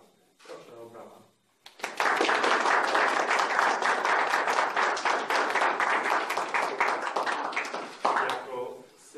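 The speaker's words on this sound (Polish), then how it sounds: "Proszę o brawa." Wedding guests at a civil marriage ceremony break into sustained applause, a dense burst of clapping that holds for several seconds before tapering, with an officiant's voice briefly heard before and after.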